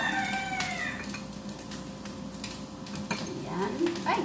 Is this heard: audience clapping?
no